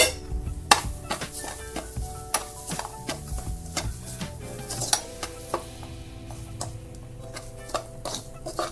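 Grated coconut roasts in a pan for Kerala kadala curry, a spatula ticking and scraping against metal in a quick irregular rhythm, close and clear over a faint low sizzle.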